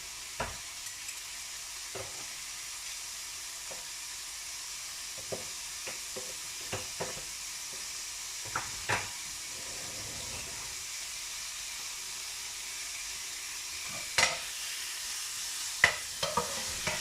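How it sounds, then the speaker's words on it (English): Diced pork browns in oil in a pan with a faint, steady sizzle, broken by quiet scraping and stirring clicks at irregular intervals, no voices. "I'm going to drizzle some oil on top and then add in the diced pork."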